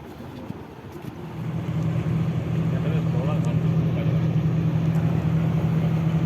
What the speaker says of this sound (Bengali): বলতে বলতে লঞ্চ আমার ছেড়ে দিল পুরো গতি দেয়নি সবে ছাড়লো আস্তে আস্তে গতি বাড়বে লঞ্চের